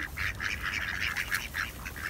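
Ducks on a partly frozen canal in the Netherlands quack in a rapid, steady chatter of overlapping calls while being fed, moderately close and continuous, with no talk.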